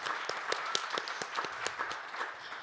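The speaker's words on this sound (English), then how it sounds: "can we give them a round of applause?" Audience applause at a crypto conference panel on Web3, a steady patter of clapping from a modest crowd, fairly quiet and even, with no talk over it.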